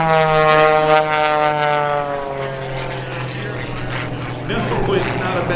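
A propeller-driven aerobatic airplane flies a hammerhead stall turn at the MCAS Miramar Airshow, its engine droning loud and steady with shifting pitch while announcers talk over it.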